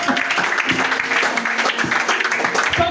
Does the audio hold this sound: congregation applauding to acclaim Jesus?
yes